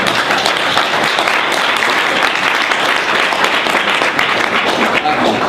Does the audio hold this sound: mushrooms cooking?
no